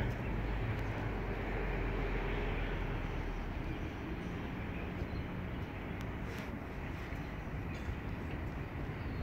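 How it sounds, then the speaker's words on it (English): A coal train hauled by locomotives NR4 and NR29 at Unanderra, a broad, steady rumble and roar of rolling wagons and engines holding level throughout with no voices. "it is a coal train"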